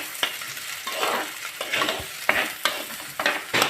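Shallots and onions stirred in a pan as they fry for Kerala fish curry: a steady close sizzle with repeated scraping strokes of a spoon across the pan, no voices.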